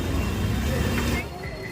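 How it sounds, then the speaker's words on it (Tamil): Heavy traffic rumbles on a rainy commercial shopping street at night, a dense continuous wash of vehicle engines and road noise that drops slightly near the end. "ஃபுல்லாக ஹார்ன் சவுண்டு,"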